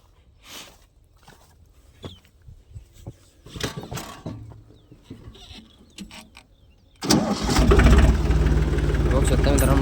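Scattered knocks and footsteps with a voice talking, then a Force tractor engine starts abruptly and settles into a loud, close, steady running roar for the final seconds.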